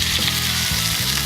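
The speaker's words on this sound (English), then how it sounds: "I'm gonna add that to the pot to finish cooking" Pieces of pork hit a soup pot and sizzle hard as they fry, a loud, steady crackle with faint stirring scrapes.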